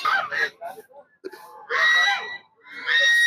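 Birds calling at a feeding place in Vrindavan, loud honking goose-like cries in several bursts, some overlapping, close by with brief quieter gaps between calls.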